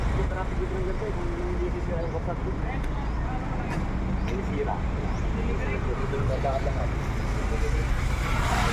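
Heavy road traffic on a damaged road in Ragay, Camarines Sur, rumbles steadily with engines idling and crawling past nearby, a continuous low roar with people talking underneath.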